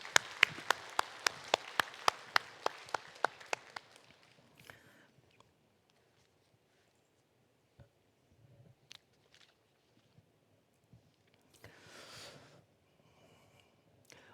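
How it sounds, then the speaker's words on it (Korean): Church congregation clapping in thanks during a Sunday service, a burst of steady rhythmic claps for about four seconds that fades out, followed by quiet shuffling, small knocks and a brief murmur. "우리 하나님께 감사 박수를 올려드리겠습니다."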